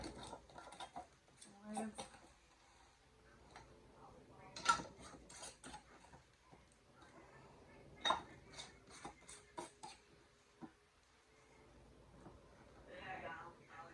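Metal rings being screwed onto canning jars of homemade dulce de leche, a series of scattered close clinks, scrapes and ratcheting twists with quiet gaps between them.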